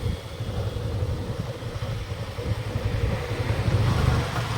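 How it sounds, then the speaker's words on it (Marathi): A Kawasaki ZX-10R sport motorcycle engine rumbles with a low, steady throb, close and continuous, with no voices over it. "चला या बाईक ZX 10R गाडीवर बसले होता आपण बोलू"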